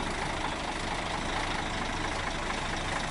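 A truck carrying a house rumbles along outdoors, a steady, noisy low-pitched engine drone with road and wind noise and no talking.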